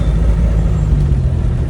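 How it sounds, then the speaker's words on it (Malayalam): A ride inside a moving yellow Ambassador car on city streets: a loud, steady low rumble of engine and road noise fills the cabin without pause, and no one speaks. "അംബാസിഡറിൽ യാത്ര ചെയ്തോണ്ടിരിക്കുകയാണ്"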